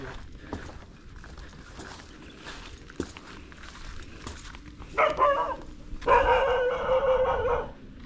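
An angry dog barks a couple of times toward the end, loud and close, after a stretch of quieter outdoor noise and rustling at a wide fishpond.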